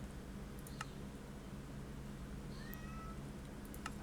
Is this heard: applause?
no